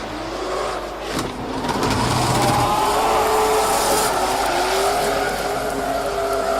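A drift race car at a round of drifting competition, engine revving hard at full throttle with the tires squealing, loud and continuous from start to finish.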